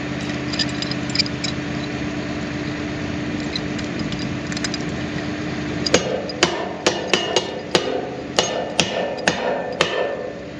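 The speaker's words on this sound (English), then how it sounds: "I may just try to pound it on there with the" A hammer strikes a stuck metal pivot on heavy equipment, about a dozen loud, ringing blows in an uneven rhythm over a steady engine hum, after a stretch of quieter engine noise.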